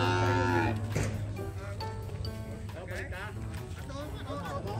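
Water buffalo at a livestock market, a long low moo at the start, with crowd chatter and talk around it through the rest.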